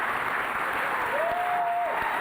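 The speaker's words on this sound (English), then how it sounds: "Give these ladies a round of applause, women of power who have made Mercy Flight what it is today." Gala audience at the Mercy Flight Beacon of Hope Gala 2018 applauding honoured women, a dense, even roar of many hands clapping throughout, with a brief whistle-like tone rising through the middle.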